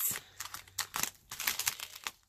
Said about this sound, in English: Another one of these plastic bags, or cellophane, I guess this is.